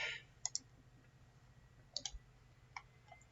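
Sharp, faint computer mouse clicks during software setup on a quiet desk, a few isolated single and double clicks spaced over a few seconds, with no talk.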